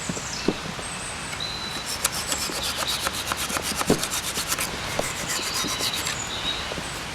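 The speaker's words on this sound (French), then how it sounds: "je n'ai plus qu'à couper avec ma petite scie rétractable" Steady back-and-forth rasp of a small retractable handsaw cutting through wooden tenons on a stool, quick regular strokes close by with a few sharper scrapes.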